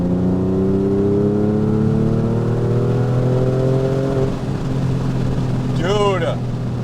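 A Porsche 911 with a rebuilt engine pulls from 3,000 to 5,000 rpm, its loud engine note climbing steadily in pitch inside the car before easing off, with a brief squeal near the end.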